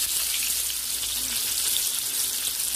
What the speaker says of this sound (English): So guys, I'm gonna flip my fish.